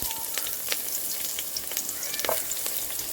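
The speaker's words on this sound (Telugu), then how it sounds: "కొంచెం ఆయిల్ను కొంచెం గీ అయితే యాడ్ చేశాను ఆనియన్స్ ఫ్రై చేస్తుంది" Onions fry in oil and ghee for egg biryani, a close, steady sizzle broken by scattered pops and brief stirring scrapes, with no talk.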